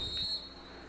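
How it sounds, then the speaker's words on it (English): A short, sharp referee whistle blast is blown for a foul during a college field hockey match, high and piercing and lasting about a third of a second before fading into faint crowd ambience. "they whistle her for a foul on the far side"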